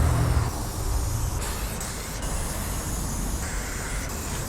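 Spray paint cans hiss in a long, steady, close-up burst while graffiti-style stripes are painted, a continuous airy spray with no voices.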